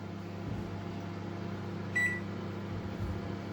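An oven hums steadily with a low droning fan while a cake bakes inside at 160 degrees, with a single short beep partway through.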